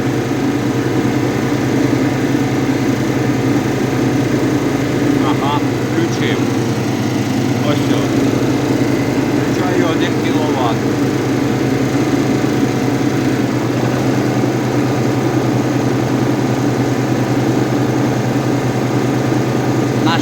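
A GAB-2 generator engine runs under a 1 kW load with a loud, steady mechanical drone and hum throughout, while someone talks intermittently over it.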